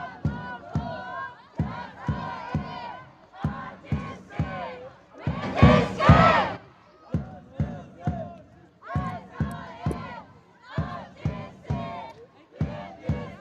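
A football crowd roars and cheers for RTC FC at a Bhutan Premier League match against Thimphu FC, with one loud swell in the middle while a commentator talks steadily over the stadium noise.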